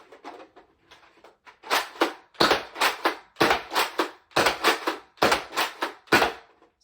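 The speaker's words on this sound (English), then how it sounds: "So now firing some X-Shot 3/4 length darts." An X-Shot Max Havoc toy blaster fires 3/4 length foam darts in slamfire bursts, first a few soft clicks and then loud sharp pops in tight clusters of two or three shots, about a dozen in all.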